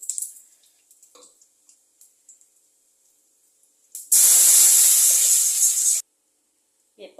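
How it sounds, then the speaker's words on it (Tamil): After quiet clinks, broken chilies and asafoetida hit hot rasam with a sudden loud sizzle lasting about two seconds, then it stops abruptly. "போட்டு ரசத்தை தாளிச்சிடலாம்"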